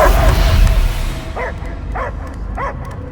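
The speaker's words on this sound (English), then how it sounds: "I hear only barking." A dog barks in the Guardians of the Galaxy video game, a string of four or five evenly spaced barks at moderate distance after a loud rumbling burst of game sound.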